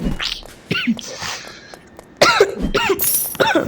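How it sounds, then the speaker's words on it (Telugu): A few sharp, raspy coughs in separate bursts, close to the listener, with quieter shuffling between them, during a video game session. "సారీ కాఫ్ ఉంది కొద్దిగా"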